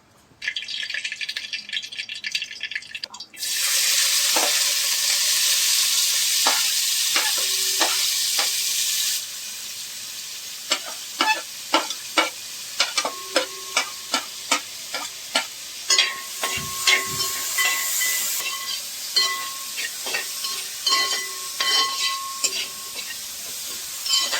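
Mustard seeds splutter in hot oil, starting with a hiss that swells into a loud sizzle, then break into rapid irregular pops and rattling crackles near the pan, with no voices.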